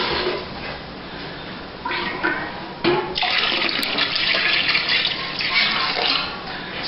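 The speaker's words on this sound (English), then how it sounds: "We still could use a little more water. Because we want to fill that up to the 5-gallon mark" Water pouring from a tap into a five-gallon fermenter while making pear wine, a steady splashing gush that swells louder partway through and keeps running close by.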